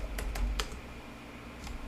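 A search phrase is typed on a computer keyboard in a short cluster of crisp key clicks close to the mic, followed by a pause and one last tap. No voice is heard.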